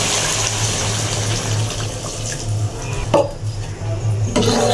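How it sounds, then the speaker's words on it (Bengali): Water pours steadily into a pan of fish curry for rui macher bhuna, a continuous splashing stream close by with no talk. "এবার আমি জল দিয়ে দিচ্ছি"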